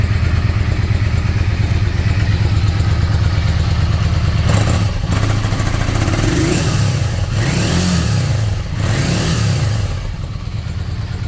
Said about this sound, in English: this is how the bike sounds now